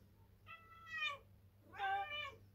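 A cat meows twice, two clear drawn-out calls separated by a short pause, close by over a faint background hum.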